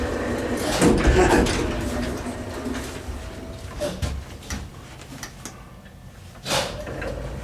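A 1954 Otis elevator's doors and machinery operate in a bursty, reverberant space, with sliding door rumbles, clunks and mechanical whirring rising and falling over several seconds.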